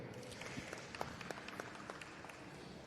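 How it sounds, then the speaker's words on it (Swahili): Applause for a sales manager at the opening of a centre attended by the Prime Minister, a faint, even patter of many hands clapping at a distance with no voices over it. "Makofi mengine kwake."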